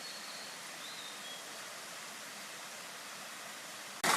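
A river in Japanese woods flows with a steady, broad rushing wash, constant and moderately near, with a faint high bird-like tone early and a sudden loud burst at the end.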